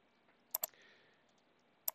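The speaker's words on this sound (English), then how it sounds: "and then you can click the download button" A computer mouse is clicked twice in quick succession on a download button, then a second quick double click follows a moment later. Both are crisp, close and quiet over faint room hiss.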